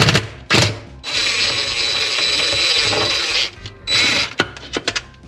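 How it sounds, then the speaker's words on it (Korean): A ratchet wrench loosens a 10mm bolt on the pulsator of a Samsung top-loading washing machine: a loud, close, rapid clicking run lasting a couple of seconds, framed by short clicks and knocks before and after. "10mm 볼트를 풀어준 다음에 그 다음에 이제 저희가 이 빨래판을 분해를 해야"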